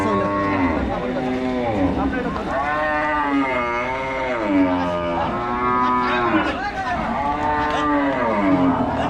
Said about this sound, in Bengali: বিশাল দেহের একটি গরু